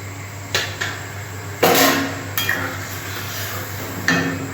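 A pot lid is set onto a pot of egg and potato curry, giving several sharp metallic knocks and clatters, one heavier scrape in the middle, close by over a steady kitchen hum.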